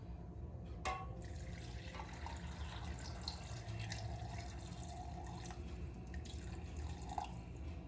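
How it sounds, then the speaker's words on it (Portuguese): Warm water is poured gradually into a blender holding fresh coconut while making coconut milk, giving a faint, steady trickle and drip in a quiet kitchen. "E aqui, junto com ele, eu vou pôr a nossa água morna."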